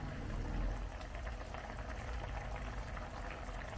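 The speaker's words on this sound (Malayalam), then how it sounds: "ഇനി നമുക്ക് ഇത് തിളച്ചിട്ടുണ്ട്" Neymeen (seer fish) mappas, a coconut milk fish curry, boiling in a pan, giving a steady low bubbling and simmering that stays near and even throughout, with no voices.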